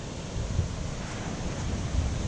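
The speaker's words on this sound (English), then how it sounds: "Pretty choppy water." Choppy water slaps and churns around a boat at an abandoned theme park in Sanur, Bali, mixed with steady wind buffeting the microphone, close and fairly loud.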